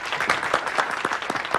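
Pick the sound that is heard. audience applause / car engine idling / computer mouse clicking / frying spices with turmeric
audience applause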